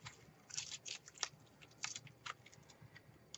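Scissors trimming decoration for a horse, a run of quick, faint, close snips and crisp clicks in an irregular rhythm under a soft background hiss.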